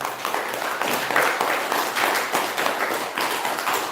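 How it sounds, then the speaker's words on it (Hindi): An audience claps hands together in a steady, fairly loud round of applause, a dense patter of many claps with light rhythmic swells, and no talking over it. "अब एक बार और ताली बजा लें।"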